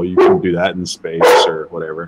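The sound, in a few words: dog barking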